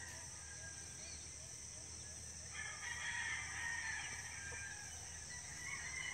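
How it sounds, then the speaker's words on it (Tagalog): Backyard chickens make crowing and clucking calls from a pen, a rooster-like call rising in the middle of the stretch over steady outdoor background noise. "Busog na busog ang aking mga manok."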